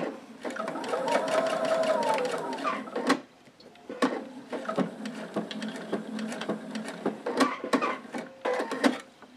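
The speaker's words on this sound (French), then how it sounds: "Et donc arrivé au bout ici, je vais marquer un point d'arrêt." A sewing machine stitches a Y seam and runs in loud, close, continuous bursts. A short pause falls partway through before it starts stitching again in several quick runs, and nobody speaks.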